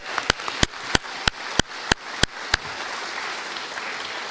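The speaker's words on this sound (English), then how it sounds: "Let's have a big round of applause for all 26 finalists from across Colorado." Applause for the 26 finalists of a Colorado state civics bee: about eight sharp, evenly spaced close claps ring out over a diffuse wash of crowd clapping that carries on steadily after the crisp claps stop.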